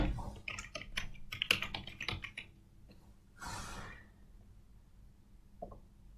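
Rapid clicks of typing on a computer keyboard in quick bursts, close and clear, followed by a short rustle and a single late tap in an otherwise quiet room.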